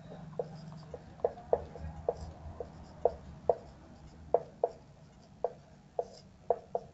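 Chalk writing on a classroom board during a maths lesson, a run of sharp rhythmic taps and strokes in quick clusters, close and clear over a quiet room.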